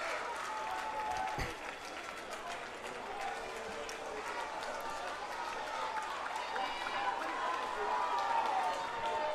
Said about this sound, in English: Catcher Grant Hubner turns to his crowd and says, get on your feet, make some noise.